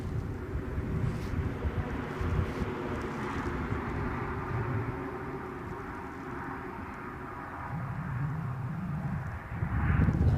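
An airliner departing Newcastle International Airport gives a broad, steady jet roar with wind buffeting the microphone, swelling louder toward the end.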